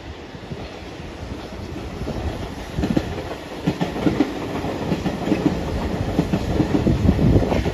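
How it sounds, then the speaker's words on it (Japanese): A Sanyo Electric Railway train passes outdoors, its rumble growing louder with rhythmic clickety-clack of wheels over rail joints and some wind buffeting on the microphone, no talk. "おお、山陽電車行くんかよ。"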